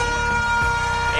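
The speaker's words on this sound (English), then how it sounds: "The sound of the traditional conch shell signifies the beginning of the race here at Poipu Beach." A traditional conch shell blown at Poipu Beach to start a marathon race, a loud sustained horn-like tone with steady harmonic drone lasting throughout, with crowd and outdoor noise beneath.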